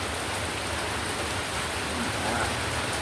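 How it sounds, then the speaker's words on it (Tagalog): Heavy rain pours down steadily, making a loud, dense, unbroken hiss of drops striking surfaces for the whole stretch. "malakas ang ulan po"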